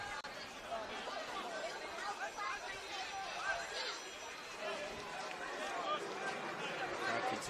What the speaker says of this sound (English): Crowd continues to build here at Lambert Park